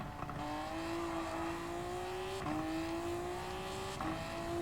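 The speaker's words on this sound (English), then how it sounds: "Listen how snappy it changes gears." A race car engine in the video game Gran Turismo 7, Japanese Clubman Cup 550 race, whines upward through the revs, dropping sharply at two quick gear shifts before climbing again; steady, synthetic-sounding, no talking.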